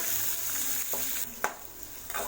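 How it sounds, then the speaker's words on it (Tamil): Chopped onions and green chillies sautéing in a hot pan for carrot rice, with a continuous bright sizzle and a few soft clicks and scrapes of the spatula. No voices. "ஆட் பண்ணிட்டு வெங்காயத்தை வதக்கி விட்டுக்கோங்க."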